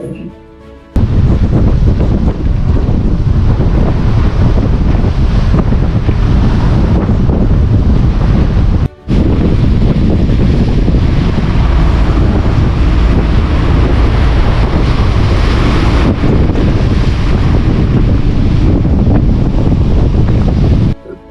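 Strong wind and ocean swell at sea, a loud continuous roar of wind buffeting the microphone over rushing water, steady throughout with one brief drop-out partway through.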